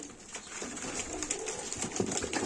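Pigeons cooing softly at close range amid a cluster of birds, with low, continuous murmuring calls and a steady bird-chatter background throughout.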